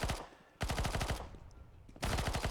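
SMG gunfire in a Counter-Strike match, with rapid automatic bursts in two loud sustained volleys separated by a short lull of quieter shots, close and sharp, with no voices.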